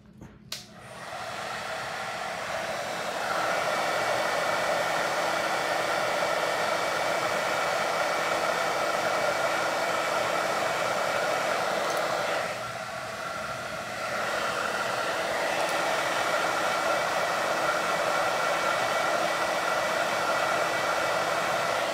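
A hair dryer blows chalk paste dry on a Halloween haunted house craft project, a loud steady whoosh that starts abruptly, holds for about twenty seconds, and dips briefly partway through.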